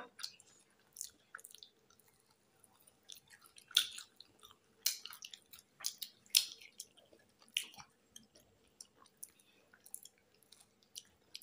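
Chewing on hot chickpeas at an iftar meal, close and moist, with bursts of smacking bites spread unevenly across the stretch and quiet gaps between them, no voices.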